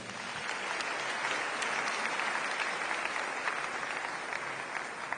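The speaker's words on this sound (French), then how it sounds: "Acclamons le Seigneur." A church congregation breaks into steady, dense applause for the Lord, filling the room evenly at moderate loudness for several seconds without a break.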